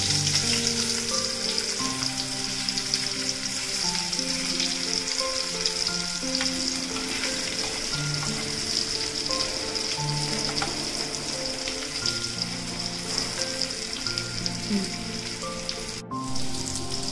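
Pieces of bitter gourd fry in a pan over a low flame, giving a steady, close crackling sizzle that runs unbroken throughout, with no talking.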